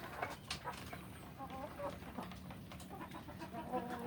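Free-range native village chickens (ayam kampung) cluck and chirp in a farm pen, faint scattered calls over a low background hum, with no clear talk.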